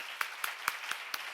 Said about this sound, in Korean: 크게 박수 한번 쳐봐요